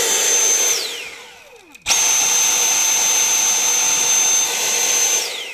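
A Dyson V8 cordless vacuum running with its back part removed gives a loud, high-pitched whine that winds down, cuts off briefly, then snaps back to full speed and later starts to spin down again.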